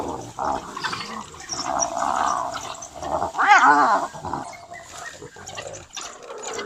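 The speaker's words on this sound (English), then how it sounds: "They charge as one, barking and snarling" African wild dogs snarling, yelping and growling in a rough, chaotic burst as a pack charges hyenas, loudest partway through, with no talking.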